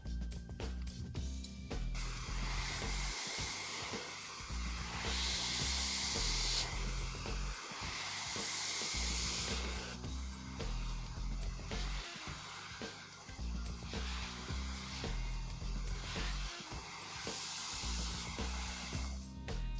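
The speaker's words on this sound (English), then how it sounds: "my Ionic blow dryer to be able to blow dry her hair smooth" An ionic hair dryer blow-drying hair smooth blows steadily with a loud, breathy hiss, its pitch and strength shifting as it moves around, with no talking.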